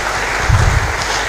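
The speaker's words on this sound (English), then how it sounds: "Please, can we give him a round of applause?" A brief wash of audience applause at a college of engineering freshman orientation, steady and fairly loud across its short span.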